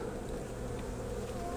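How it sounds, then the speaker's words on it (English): A steady, continuous honeybee drone fills the whole stretch, close and even in level, with no voices over it. "the bees are all over on this side"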